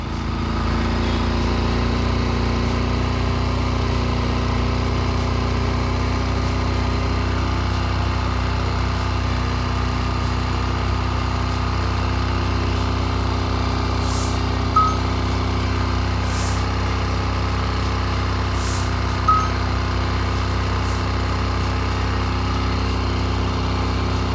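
A small engine idles steadily while its carburettor air-fuel screw is adjusted, producing a constant, close, fairly loud drone with an unchanging hum throughout and a couple of faint clicks, no speech.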